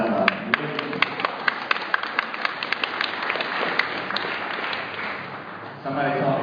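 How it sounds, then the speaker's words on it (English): A small audience claps in a scattered, uneven patter of separate claps, fairly close, with talking underneath and a louder voice coming in at the end. "let's clap for Tesla"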